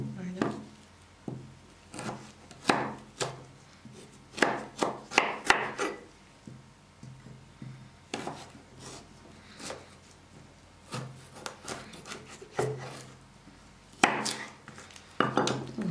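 Knife chopping carrots and beetroot on a board in a home kitchen, making tight bursts of sharp close cuts separated by short pauses, some strokes louder than others.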